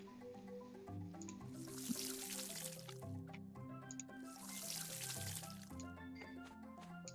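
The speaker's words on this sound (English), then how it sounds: "Let's just water our tree while we're here" Watering a tree in the farming video game Pumpkin Days gives a soft dripping, splashing water effect, heard steadily beneath cheerful game background music.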